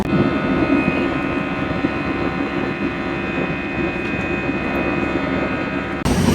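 An airplane in flight over the Amazon, bound for Bogotá, heard as a constant, loud, close cabin drone with steady engine hum that cuts off abruptly near the end.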